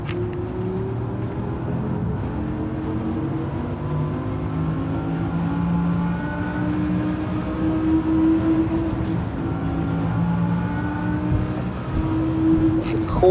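Race car engine droning steadily in Gran Turismo 7 as it laps the track, the pitch rising and falling through gear changes, loud and continuous throughout.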